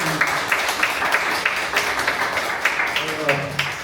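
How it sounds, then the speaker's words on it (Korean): Applause from the audience at a book launch event, sustained crowd clapping throughout, with a voice speaking faintly beneath it near the end. "큰 박수"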